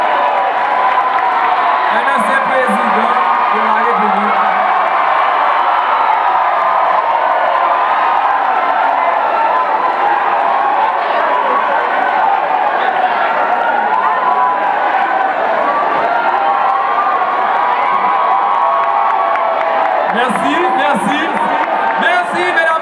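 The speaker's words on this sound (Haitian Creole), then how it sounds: "Applaudissez, mesdames," Crowd at a lycée graduation ceremony in Haiti applauding and cheering the arrival of a former president, a dense, continuous wash of clapping and shouts filling the whole stretch, with an announcer's voice over it.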